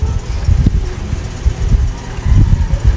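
A newly installed Shin Nong rice mill machine, rated about 3.5 kilowatts, runs with a steady low mechanical rumble and a broad hiss that rise and dip slightly throughout, with no talking.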